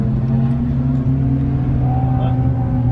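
Turbocharged Mazda Miata race car running in the rain, steady loud engine drone heard from inside the cabin with a slight rise in pitch, close and continuous.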